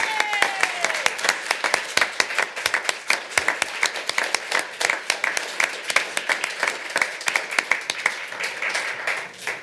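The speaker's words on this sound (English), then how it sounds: "So we can clap now?" Audience applause at a Layton City council meeting, a dense burst of many hands clapping that runs steadily throughout, with a faint tone fading early on.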